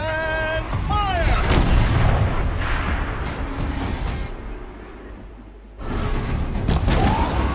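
Turret fire in Horizon Zero Dawn: heavy booming game shots and blasts roll out loud, fade, then another burst erupts near the end, with brief talk mixed in.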